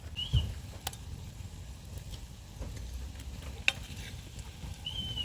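Butter dropped into a simmering fish chowder pot with cooked potatoes gives a soft, steady sizzle and stirring noise, broken by a couple of sharp clinks. No one speaks.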